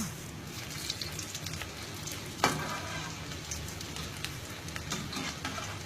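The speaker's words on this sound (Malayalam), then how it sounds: "നമുക്കിനി ഇത് നന്നായിട്ട് ഫ്രൈ ചെയ്ത് നമുക്കെടുക്കാം" Chicken potato smileys fry in hot oil with a steady, dense sizzle and crackle, with one sharper pop partway through and no voices.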